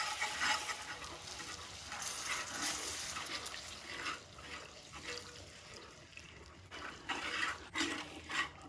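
Warm evaporated milk poured slowly into a simmering cheese sauce for baked macaroni and cheese, a soft steady liquid trickle and gentle bubbling, faint and close, with no talking.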